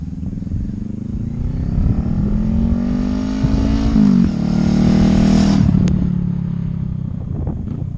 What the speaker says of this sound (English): Today we have an opportunity to take out the 2025 Honda Rebel 1100.